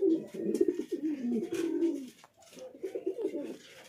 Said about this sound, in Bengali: তো এই ছিল সুদিদার বাড়ির পায়রা